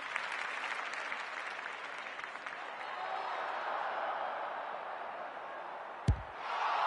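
At a women's Australian rules football match, a crowd roars and applauds after a goal, a broad sustained wash of distant cheering that swells and then eases, with a sharp thump near the end.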